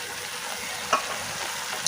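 Steady frying sizzle as boiled meal maker soy chunks and peas go into an eggplant curry, with a couple of brief utensil clinks over the hiss and no talking.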